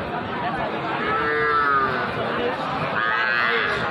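Young Sahiwal bull calves at a crowded cattle market in Joypurhat let out two drawn-out moos, one near the middle and one toward the end, over constant crowd chatter and bustle.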